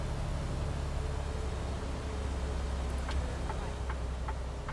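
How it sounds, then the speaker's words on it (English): A truck's transmission in a driving simulator game gives a few small, quick clicks near the end of the clip, over a steady low engine drone and road hum. "So we're just going to hear that clicking every once in a while."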